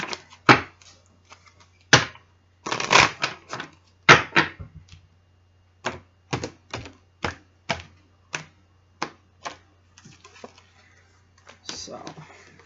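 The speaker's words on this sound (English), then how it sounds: "So I'm throwing cards all over the place for you" Tarot cards slapped down and shuffled on a table, a series of sharp, close card snaps and flicks at uneven intervals across about twelve seconds.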